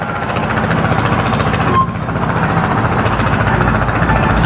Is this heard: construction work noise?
yes